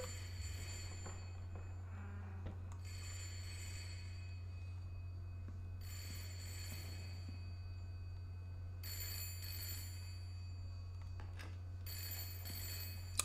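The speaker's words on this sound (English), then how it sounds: "So that's the phone." A telephone bell rings repeatedly in the horror game Layers of Fear. The bursts are evenly spaced, the ringing is fairly faint, and a constant low hum runs underneath.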